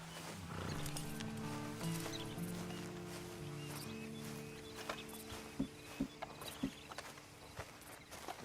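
Horse hooves clip-clopping in Red Dead Redemption 2, a few sharp, distinct steps arriving late over a steady bed of tonal game music and ambience.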